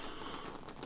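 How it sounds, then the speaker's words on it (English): A cricket chirps outdoors in three evenly spaced, high bursts, each a short trill, standing out over a soft ambient background with no talking. "Cicada or a cricket or something in there chirping."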